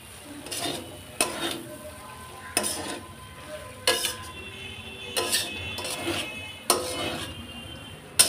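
Mixed colourful vegetables are stirred in a pan on the stove, with a soft sizzle broken by a string of sharp metallic scrapes and clinks of the utensil against the pan, heard alone without talk.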